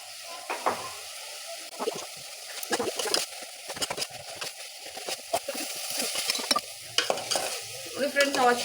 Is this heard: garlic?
yes